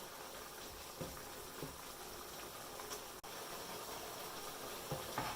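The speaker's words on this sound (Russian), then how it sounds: "Вот я тушила печень с закрытой крышкой 8 минут." Chicken liver stewing in a covered pan for a homemade pâté, giving a steady soft bubbling hiss throughout with a few faint clicks, with no voices.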